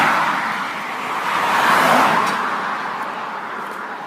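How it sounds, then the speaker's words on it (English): Cars pass on a fairly busy country road near the Rollright Stones, a close whooshing tyre-and-engine sweep that builds to a peak and fades away. "let's see if we can cross this fairly busy road."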